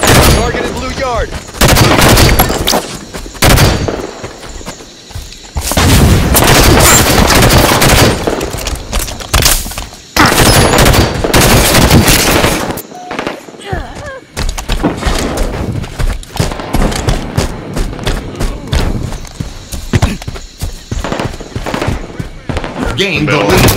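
Halo 5 multiplayer SWAT gunfire, loud bursts of rapid shots and single cracks in clusters with brief gaps, mixed with game voice callouts and a player talking over it.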